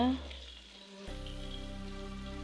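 Tomatoes sautéing with salt in a pan for a dry fish curry, a soft steady sizzle that drops away briefly, then returns low and even alongside a faint hum.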